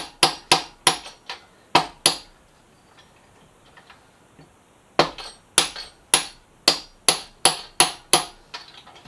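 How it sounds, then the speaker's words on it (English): Hammer pounding a bent axle out of a Yamaha FZ6R motorcycle front end, sharp metallic blows struck close: a quick cluster, a pause, then a longer run of evenly spaced strikes. "I had to pound it out from the other side."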